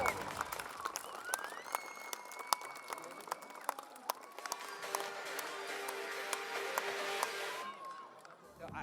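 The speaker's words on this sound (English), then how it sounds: "Big round of applause, ladies and gentlemen, for Rafi and Aftab." Crowd applause and scattered cheering for motorcycle stunt riders at a moto show, heard fairly faint and distant amid sharp claps and taps, with a voice or whistle-like tones drifting over the noise.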